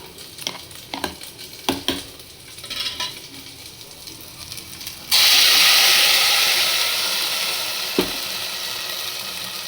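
Sambar for holige being stirred with cooked lentil water in a pot, a few soft scraping stirs at first, then a sudden loud steady sizzle and hiss that fades slowly, with one more stir knock near the end.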